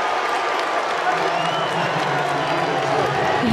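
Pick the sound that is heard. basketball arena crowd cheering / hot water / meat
basketball arena crowd cheering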